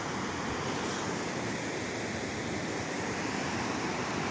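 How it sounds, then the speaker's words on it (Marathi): Water at a monsoon-season reverse waterfall near Harishchandragad fort is blown upward by strong wind, making a steady, dense rushing roar of wind and spray that holds constant throughout with no voices. "तो धूर नाही हा. पाणी वर येता उलटा"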